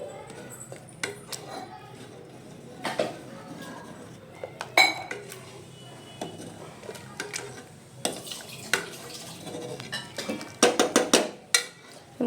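A utensil clanks and scrapes against a pot while cooked dal with turmeric is mashed, making irregular clinks and knocks that grow busier and louder toward the end, close up with no talking.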